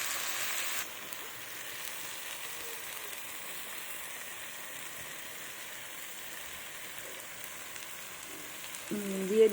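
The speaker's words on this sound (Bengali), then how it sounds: "এবার আস্তে আস্তে করে এটাকে ভাজবো" Chilli, cumin and ginger pastes fry in oil with a low, even sizzle that stays soft and steady throughout, ending with a faint clink.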